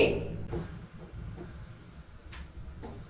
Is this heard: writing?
yes